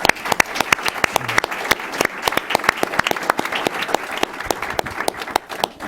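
Audience applause closing a panel discussion at an event marking twenty years of South African freedom and democracy: a sustained round of dense, crisp clapping from a sizeable room, steady and full throughout, with no talking over it.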